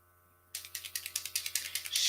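A small airbrush makeup bottle is shaken hard, giving a quick run of about fifteen sharp, evenly spaced rattling clacks close to the ear after a brief quiet start, with no talking.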